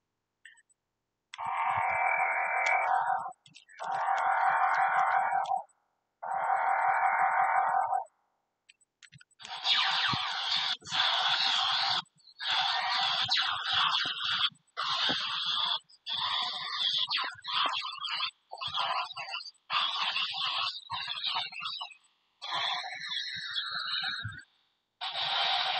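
Short bursts of buzzing electronic tones and noisy synthetic effects from an electronic action figure, triggered by moving its legs, come in rapid, choppy bursts with brief pauses, loud and close, like a toy's sound chip.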